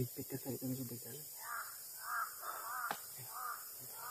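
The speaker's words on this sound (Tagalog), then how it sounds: "Lagi tayo sinusundan ng uwak tol." Several crows caw repeatedly overhead, a series of harsh calls from about midway on, following a brief burst of talk at the start.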